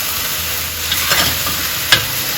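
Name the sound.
stir-frying vegetables for lamb noodle soup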